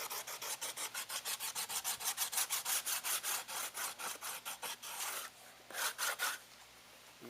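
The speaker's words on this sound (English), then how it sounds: "I'm going to try to sand all of the vertical striations out" Rapid back-and-forth strokes of 80-grit sandpaper rasp along the edge of an aircraft window on a Glastar Sportsman kit plane, roughly thirty close, even scrapes with a short pause before a final burst.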